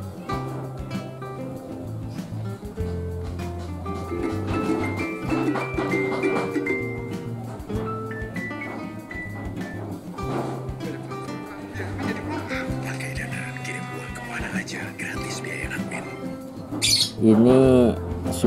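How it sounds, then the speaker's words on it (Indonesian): Recorded lovebird trilling and squawking calls play through a speaker as a lure, a dense run of chirps and trills over a steady background, ending with a louder rapid trill near the end. "suara pancingan lovebird agar cepat ngekek"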